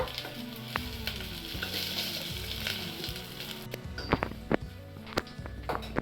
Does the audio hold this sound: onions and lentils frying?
yes